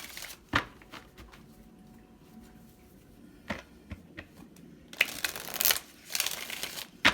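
Playing cards are shuffled during a tarot card reading, with a few soft riffling bursts and taps, quiet at first and then a louder flurry of rapid riffles near the end.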